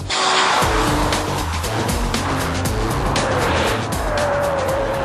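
A BMW 530 Sport driven hard around a race circuit, its engine roaring loudly and steadily close by, with tyre squeal and skidding mixed in and no talk over it.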